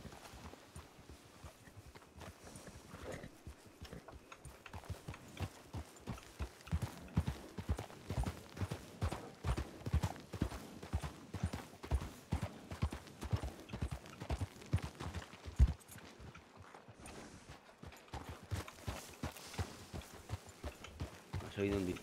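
Horse hooves clip-clop in a steady walking rhythm across the Red Dead Redemption II game world, close and fairly quiet, with occasional louder strikes and some talk alongside.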